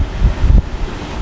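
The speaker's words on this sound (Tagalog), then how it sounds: "malakas ngayon dito sa hangin" Strong sea wind buffets the microphone beside a small boat, a brief low rumbling roar with two heavy gusts in quick succession.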